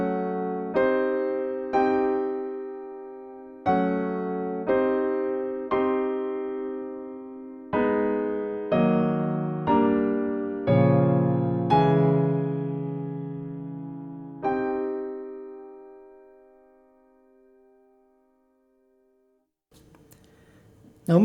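Piano plays a slow sequence of minor chords, each chord struck clearly and left to ring, the last one decaying into silence before a brief noise at the end.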